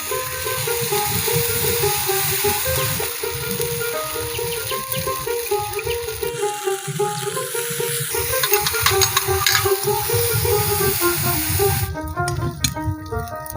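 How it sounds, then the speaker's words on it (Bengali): Ground spice paste with a little turmeric is sautéed in a pan for a snakehead (shol) fish curry, a continuous wet sizzle with stirring scrapes, while a tonal hum and occasional clatter run underneath. "দেখো মা ভালো করে কষিয়ে নিচ্ছে সামান্য হলুদ দিয়ে দিচ্ছে যাতে গায়ে না ছিটে আসে"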